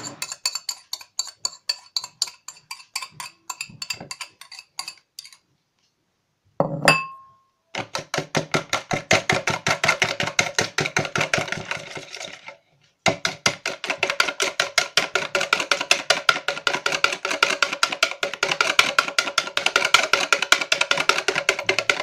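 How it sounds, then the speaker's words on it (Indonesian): Egg yolks whisked in a separate bowl, rapid continuous clinking of a whisk against the bowl in fast even strokes, with two brief pauses and a short knock between bursts, close and loud with no talking. "Di wadah terpisah kita kocok kuning telur."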